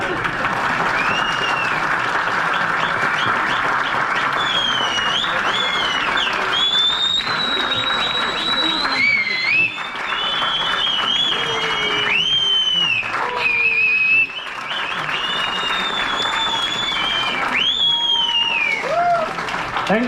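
A large audience at a business event applauds continuously for about twenty seconds, a loud, dense wash of clapping with occasional whistles and cheers rising above it.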